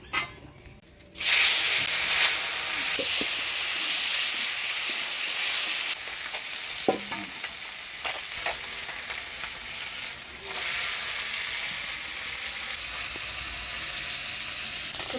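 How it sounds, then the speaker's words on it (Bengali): Small koi fish coated in turmeric and salt fry in hot oil, giving a loud, continuous close-up sizzle and hiss with occasional spits and pops, no voices. "এবারে মাছগুলো ভাজিয়ে নেব"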